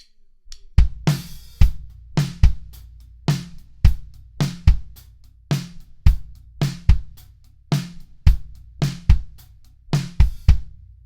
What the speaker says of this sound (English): Now we're just going to add a straight backbeat, 2 and 4 on the snare drum, keeping this pattern the same on the kick drum.